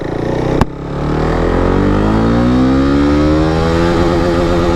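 KTM RC 390 motorcycle (2015 BS3 model) pulling hard from first gear, its engine note climbing steadily in pitch after a sharp click, loud and close with no talk.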